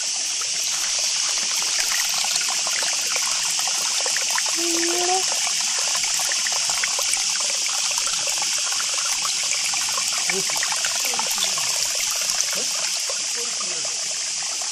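A forest stream in Wayanad's Chandanathodu area flows with a constant broad rushing wash of water, steady and close, with no speech over it.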